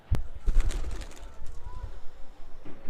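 A pet pigeon coos softly from its loft, a few low murmuring calls over close handling noise and a sharp knock near the start.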